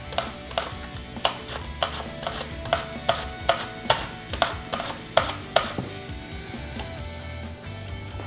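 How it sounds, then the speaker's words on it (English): Plantains being sliced with a handheld slicer, a brisk regular series of sharp, close clicks and scrapes, about two per second, with no talk over them. "So I'm just gonna go ahead and keep slicing."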